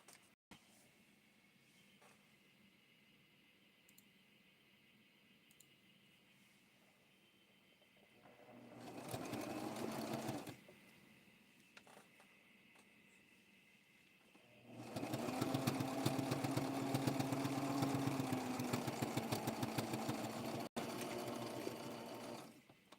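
A sewing machine stitching a small blue sparkly Barbie doll dress, running in two bursts, a short one then a longer steady whir, with quiet pauses between.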